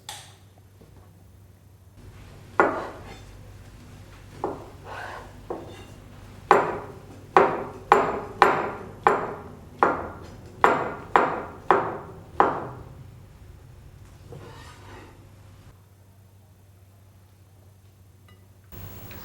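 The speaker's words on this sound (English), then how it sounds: "we slice half our block of firm tofu into strips" A knife cuts a block of firm tofu into strips on a cutting board, a run of crisp, close taps that start sparse, then come in a quick steady series before slowing and stopping over a faint background hum.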